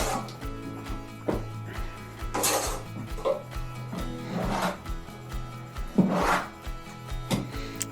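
Steel trowel spreading Thistle Bonding Coat undercoat plaster onto a damaged wall, with repeated scraping, rubbing strokes in an irregular rhythm, close and fairly loud.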